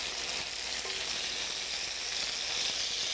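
Pieces of food sizzle in a 12-inch skillet, a loud, dense, continuous hiss that stays even throughout, close up with no talking.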